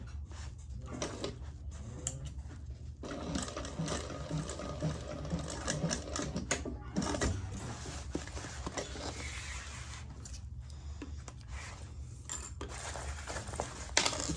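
Up close, a sewing machine hums and clatters steadily as it sews seam allowances open on an Iris garment, with small clinks and pauses in the mechanism and no voices.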